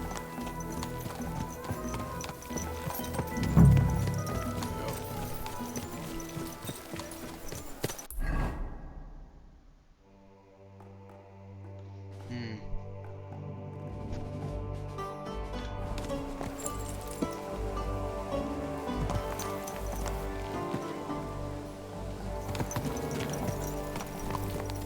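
Horse hooves clip-clop in a rhythmic gait while riding in the medieval video game Kingdom Come Deliverance II. After a sudden hush the clopping returns with layered in-game music and ambience.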